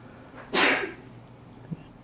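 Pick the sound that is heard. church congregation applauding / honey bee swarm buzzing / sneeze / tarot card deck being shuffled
sneeze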